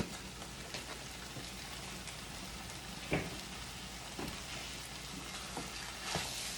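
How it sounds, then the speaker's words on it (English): Ground lamb and pork frying in a pan, a steady close crackling sizzle with occasional sharper pops and stirring scrapes, no voices. "we're going to cook this until the meat is fully cooked and brown"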